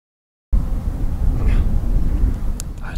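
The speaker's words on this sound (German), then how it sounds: "Der Wind hier ist ziemlich stark" Strong wind buffets an outdoor microphone with a loud, continuous low rumble that starts abruptly after a moment of silence and roars on without a break.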